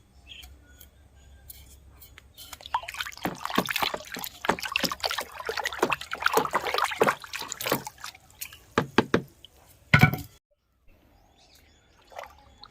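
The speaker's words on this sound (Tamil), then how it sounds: "இதை நல்லா குலுக்கி விட்டுக்கலாம்" Homemade mustard-seed liquid fertilizer for roses is shaken in a container, giving irregular sloshing, rattling bursts close up. A sharp louder jolt comes near the end, followed by quiet.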